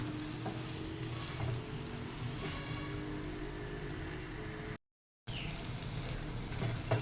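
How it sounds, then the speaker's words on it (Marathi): Tomatoes cooking in a pan for a masoor dal Mysore masala dosa, a steady soft sizzle like light rain, continuous with a brief dropout partway through and no talking. "दोन तीन मिनटं जरा हे आपण शिजून देऊया टॉमॅटो थोडेसे मऊ होईपर्यंत"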